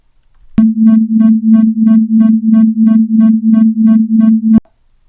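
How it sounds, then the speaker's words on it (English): A steady pure tone, two slightly mistuned octave notes played together, wavers in loudness with regular pulsing beats, roughly two or three per second, stopping abruptly after about four seconds. "that is the sound of the mistuning, the beats playing between the notes"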